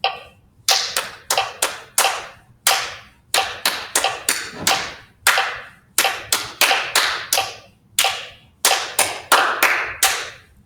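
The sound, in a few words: metronome clicking with clapped rhythm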